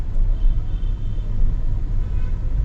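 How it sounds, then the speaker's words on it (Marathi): Heavy road traffic in a jam, a low steady rumble of engines close by with no distinct horns or voices. "ट्रॅफिक जाम झालं."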